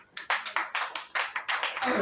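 Short burst of audience clapping in a church gathering, a steady patter of hands about two seconds long, moderately loud with a faint voice starting at the very end.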